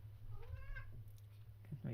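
Faint yowling and meowing of cats tangling, somewhat distant under a steady low hum, with a voice talking nearby.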